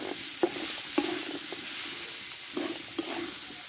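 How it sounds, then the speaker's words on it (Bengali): Pumpkin with turmeric and salt being sautéed in a pan for a Bengali fish-head pumpkin dish, a soft continuous sizzle broken by several sharp scrapes and knocks of a spatula stirring, close but fairly quiet, no talking. "পরিমাণ মতো হলুদ, স্বাদ মতো লবণ। একসঙ্গে কষে নেব।"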